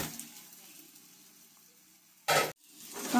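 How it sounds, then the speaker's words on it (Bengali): Crab pieces dropped into frying spice paste in a pan, giving a sudden short burst of loud sizzling after a quiet low simmer, with the hiss rising again at the end. "2 মিনিট কষার পর আমি এবার দিয়ে দেব কাঁকড়া।"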